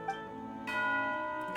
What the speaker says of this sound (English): You hear the sound of the bell.